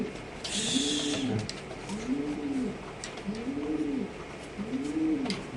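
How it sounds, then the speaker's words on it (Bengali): Caged pigeons at a pigeon seller's coo in a steady rhythm, four rolling coos evenly spaced and close by, with no talk over them. "কবুতর খুব সুন্দর ডাকে"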